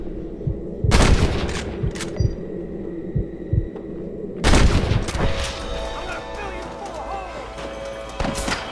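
Gunfire in the Western game Red Dead Redemption, two loud bursts of shots roughly four seconds apart over a busy bed of game sound and music, with voices talking in between.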